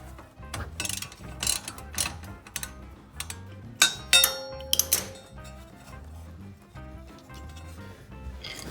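Ratchet on an extension turning out a 7mm hex caliper guide pin on the rear brakes of an E87 BMW 1 Series, a string of clicking pawl bursts with occasional metallic knocks and clinks, close and fairly loud.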